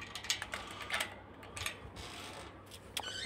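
A screen door mortice lock's bolt sliding out, heard as a few faint, brief mechanical clicks and ratcheting snaps spread over a few seconds in a quiet room.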